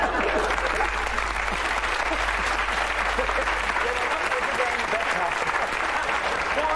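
Sustained applause from a stand-up comedy audience, dense steady clapping that fills the room without a break, with a voice heard faintly over it.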